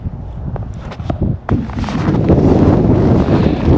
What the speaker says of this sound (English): it's that there's wind right now